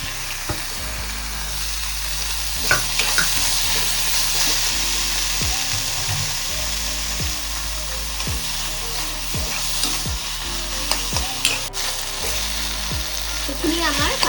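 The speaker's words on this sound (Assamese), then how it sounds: "এইখিনি অকণমান পানী হ'ব পাৰে, সেইকাৰণে অকণমান ড্ৰাই কৰালৈকে অলপ ভাজি থাকিব" Mashed paneer for bhurji fries in oil while a spatula stirs it, making a loud continuous sizzle with regular scraping knocks against the pan throughout.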